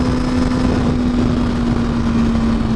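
Motorcycle engine while riding on a road, a steady loud droning hum with a constant tone, mixed with heavy wind rush, continuous throughout.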